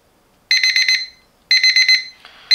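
An AURIOL digital alarm clock with a wireless charging base sounds its alarm: two loud bursts of rapid, shrill electronic beeps, four pulses each, separated by short silences, followed by a faint click and the start of another burst.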